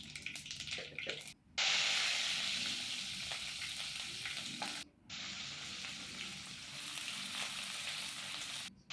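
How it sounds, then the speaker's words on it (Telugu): Upma ingredients frying in hot oil in a pan, a loud steady sizzle broken by brief pauses around two quick gaps, with faint stirring scrapes underneath and no talking. "ఉప్మా ఇలా మంచిగా ఫస్ట్ వేయించుకోవాలి, నూనెలో పెట్టి నూనెలో పోసి"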